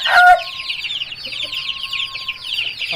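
A long-tailed aseel rooster, a top-class fighting breed, gives a short cluck up close, then holds a sustained tonal call over a steady bed of chirping birds in the background.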